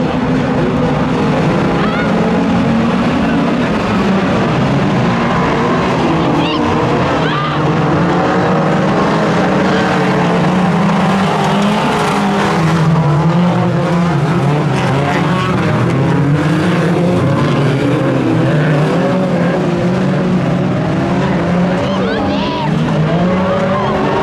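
Stock cars of the BMM class, up to 1800cc, race in a 2023 heat at Solla, their engines a loud, unbroken roar that swells and fades slightly throughout.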